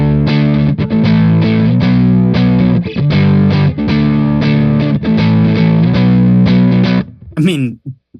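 Heavily distorted electric guitar chugs through palm-muted chords and sustained power chords, ending with a brief squealing pick scrape.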